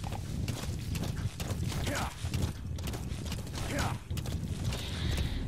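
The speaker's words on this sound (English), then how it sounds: "It's just a lonely horse wearing Diamond Dog's emblem." Horse hooves clop in Metal Gear Solid V: The Phantom Pain, a steady rhythmic series of close footfalls with creaking gear, while someone talks over them.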